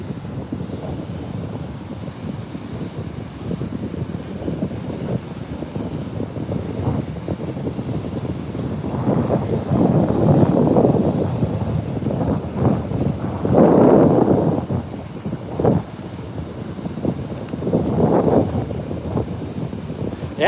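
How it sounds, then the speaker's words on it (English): Ocean waves wash onto a beach where people hunt agates, with steady wind buffeting the microphone and the surf swelling louder in several slow surges. "Man, these waves are gorgeous."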